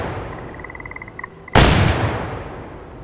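A single loud gunshot aimed at a wild duck in the hunting game Way of the Hunter. The boom is close and sharp and rings out in a long decaying echo, preceded by faint rhythmic ticking.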